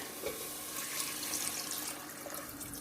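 Water pours steadily into a pot of broccoli and vegetables for soup, about one and a half litres, a continuous splashing rush that stays close and fairly quiet, with no voices.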